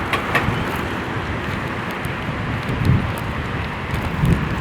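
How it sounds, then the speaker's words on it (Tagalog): Strong, typhoon-like gusts sweep through an open park, buffeting the microphone with a loud, continuous roar and brief harder surges. "Ay, ang lakas ng hangin, guys."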